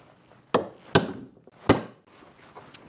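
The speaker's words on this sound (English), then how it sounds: "See if we can get that rivet tapped out of there." Three sharp metallic taps spaced about half a second apart, knocking a rivet out of a 1978 Silver Anniversary Corvette control arm, close and loud over a quiet workshop background.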